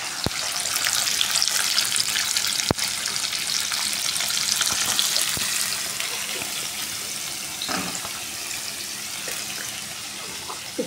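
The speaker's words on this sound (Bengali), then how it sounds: "কড়াইটা তেলটা হয়ে গেলে পরেই, তেলটা পুরো জ্বলে গেল, তারপরে আমি এই পেঁয়াজগুলো দেবো" Onions going into oil heated in a wok, a steady bright sizzle and crackle with a few sharp clicks and stirring scrapes, close and fairly loud, no voices.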